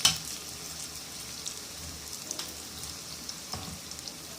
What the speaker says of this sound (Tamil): பனியார சட்டியில் பனியாரம் போல் ஊற்றி வச்சுருக்கேன்